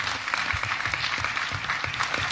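Applause from an audience at a speech, a dense, steady patter of many hands clapping throughout, fairly loud with no talk over it.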